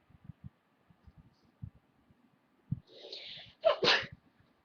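A single sharp sneeze, preceded by a brief intake of breath, stands out close and fairly loud against soft thumps and rustling in a quiet room.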